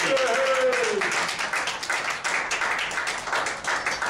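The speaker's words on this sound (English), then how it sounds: "please, big round of applause for Major Albert Parisi" Applause from the audience at an Army Air Forces Historical Association WWII revue, a dense wash of clapping that carries on for several seconds with talking mixed in underneath.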